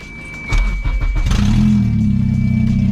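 A K-swapped Toyota MR2 engine fires up and settles into a steady, loud idle with a rising rev after startup, close by and with no talking over it.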